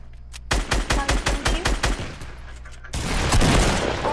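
Rapid automatic gunfire in the video game Fortnite, a loud burst of about ten evenly spaced shots, then a pause and a dense, sustained roar of more firing and action.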